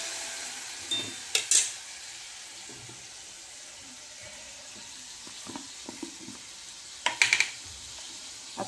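Masala cooking in a pan for a dal dish, stirred in two short bursts of spoon scraping over a soft, steady sizzle, with quiet gaps between.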